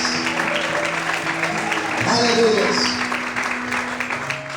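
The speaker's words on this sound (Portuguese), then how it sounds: "Você pode aplaudir o Senhor em paz" A church congregation claps during a worship service, with a soft, sustained patter of applause beneath a voice and held tones that swell briefly in the middle.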